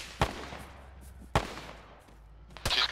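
Gunfire in the ShackTac Arma video game, three sharp, loud single shots spaced about a second apart over a low background rumble.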